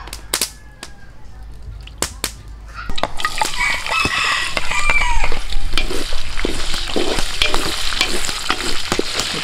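Cooking oil heated outdoors begins frying food for pork giniling, rising from a few sharp pops into a loud, continuous close sizzle with crackling, while a rooster crows in the background.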